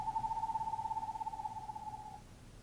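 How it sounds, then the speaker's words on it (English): A single steady trilled whistle on one pitch, an eastern screech owl's tremolo, holds for about two seconds before fading, soft and somewhat distant. "Is that not an eastern screech owl's tremolo?"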